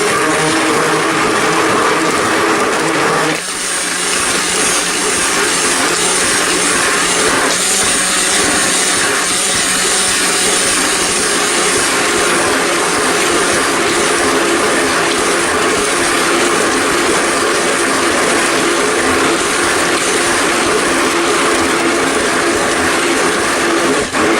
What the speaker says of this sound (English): remember I said after every addition, you want to go ahead and start mixing it again